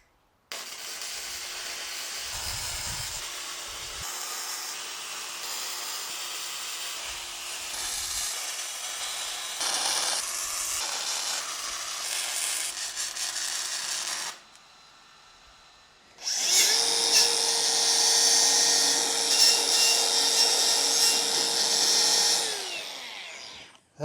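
Tack welds go onto the steel corners of a welding bench built from junkyard scrap, with a close, crackling hiss in bursts, a short quiet pause, then a louder, steadier stretch of welding.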